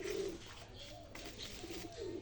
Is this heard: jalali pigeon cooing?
yes